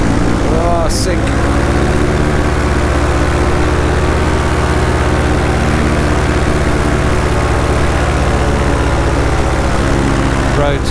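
A paramotor engine runs in flight, a loud, steady droning hum that stays constant throughout, with a brief burst of noise near the start.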